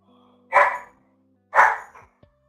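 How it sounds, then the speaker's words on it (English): A dog barks twice, loud and near, each bark a single full woof about a second apart, over a quiet background while a live day-trading session runs. "I just heard the dog is barking."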